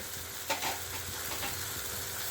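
Ground spices such as coriander, turmeric and red chili powder fry with onion and tomato in a pan for cashew curry, making a soft, steady sizzle with a few stirring scrapes, no voices.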